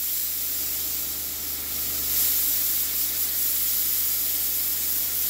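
Spray gun blowing compressed air while its pressure is dialed in for 2K automotive paint, a loud continuous hiss close by that swells slightly partway through.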